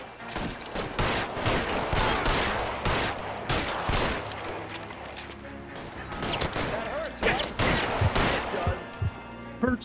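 Video game gunfire in rapid bursts, sharp repeated shots and volleys cracking loudly in clusters across the span, with a voice talking in between.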